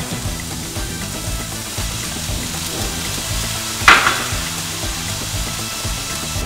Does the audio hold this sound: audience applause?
no